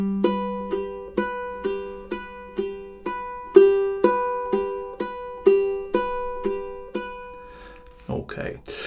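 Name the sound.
fingerstyle ukulele intro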